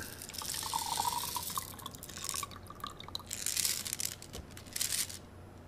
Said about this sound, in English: So let me dump the water out